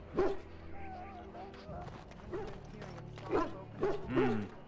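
A dog in the video game Dragon Age: Origins gives a few short barks and whimpering yips at moderate volume, spread over a few seconds alongside other in-game sounds.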